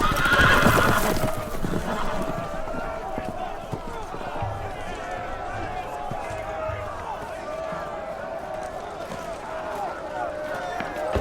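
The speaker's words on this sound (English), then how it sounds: "The horses! They're loose!" Loose horses in a medieval fantasy drama, loud whinnying and neighing up close followed by rapid hoofbeats of running horses, with shouting voices over the commotion.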